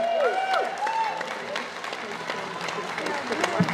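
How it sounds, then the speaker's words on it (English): Scattered applause from an outdoor crowd at a protest against wind farms in Bunbury, Western Australia, steady clapping with a voice briefly audible over it and a whistling tone at the start. "Round of applause for Pauline Hanson."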